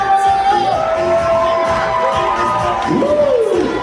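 A large crowd cheers, whoops and shouts for performers on stage at a Lorient geek convention. The roar stays loud and steady, with shrill whistles and yells rising above it.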